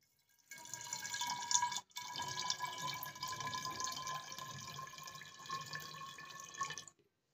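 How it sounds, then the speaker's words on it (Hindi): Water pours into a bottle as a steady, faint rushing stream lasting several seconds, with a brief pause partway through before continuing and then stopping. "तो पानी हम इसमें भर लेते हैं।"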